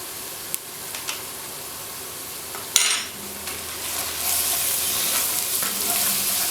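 Ginger garlic paste, salt, red chili powder and garam masala sizzle steadily in a hot pan for chicken biryani, with a few sharp clinks and scrapes of stirring.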